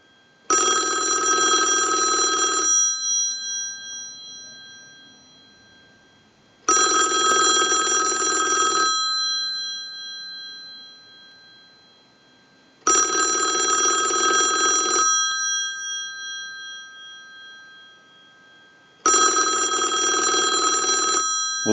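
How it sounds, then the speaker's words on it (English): A rotary dial desk telephone bell rings in four separate bursts, each about two seconds long and spaced evenly apart, loud and close in an otherwise quiet room. "send a ring cycle like you were getting a call"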